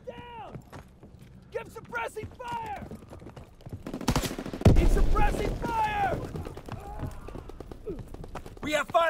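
Shotgun gunfire in the video game Call of Duty: WWII: a few sharp, heavy blasts mid-way amid game chatter and shouted voices, with frantic speech before and after the shots.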